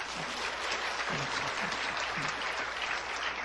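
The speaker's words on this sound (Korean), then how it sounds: "박수 한번 쳐, 박수 쳐." Continuous applause from a church congregation during a Sunday sermon, a steady wash of many hands clapping at moderate distance with no clear talk over it.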